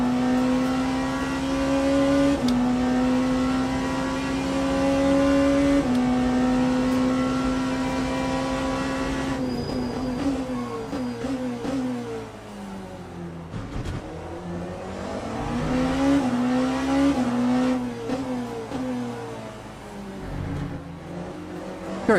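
GT3 race cars in the Le Mans Ultimate sim, racing at COTA past a Ferrari and a BMW, engines droning loud and close. The pitch rises and drops through gear changes and passes, with a clear shift partway through.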